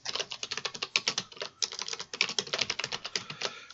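Rapid keystrokes on a computer keyboard as a string is typed during a JavaScript coding class, a dense, close run of clicks with a brief pause near the middle and no talking.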